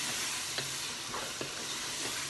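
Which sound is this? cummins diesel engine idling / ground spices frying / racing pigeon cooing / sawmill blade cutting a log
ground spices frying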